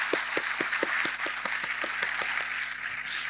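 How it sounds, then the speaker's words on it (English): An audience at the Nashik Bodh 2025 event applauds the organizers: a steady wash of clapping with evenly spaced, sharper claps standing out, heard from a moderate distance. "Let's give them a huge round of applause for their incredible work,"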